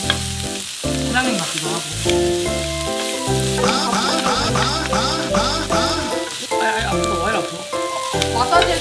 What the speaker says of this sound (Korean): 여기 남은 밥으로 볶아 먹을까?